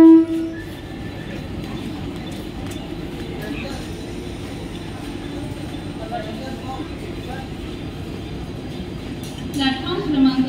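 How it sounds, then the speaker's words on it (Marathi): A Mumbai slow local train arrives at a platform at CSMT station, a steady loud rumble of rolling carriages with station bustle, a louder clank and rattle near the end. "प्लॅटफॉर्म क्रमांक 2 वर आलेली लोकल"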